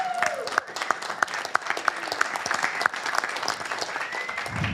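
Audience applause at a city council meeting in Carson, California, a sustained crowd of clapping hands with sharp individual claps standing out over a steady wash, moderately distant, with faint voices underneath.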